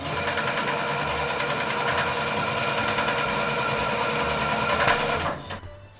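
A sewing machine stitching a dress waistband runs in a fast, steady, close mechanical whir for about five seconds, then slows and stops with a brief clunk.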